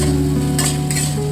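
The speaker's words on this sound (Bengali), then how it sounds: "আলুগুলো দিয়ে ভালো করে কষিয়ে নিতে হবে।" Pre-fried potatoes are stirred in spice paste in a pan for a paneer and potato curry, with a steady sizzle and two quick scraping strokes of a spoon over a constant low hum.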